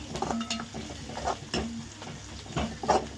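Onions sizzle in a pan while a spoon scrapes and stirs at a steady rhythm, the frying hiss constant underneath.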